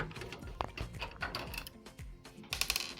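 Small screws are worked loose from the PCI plate of a desktop PC, giving short metallic ticks, scrapes and ratcheting clicks close by, with a brighter rattle near the end; no talking.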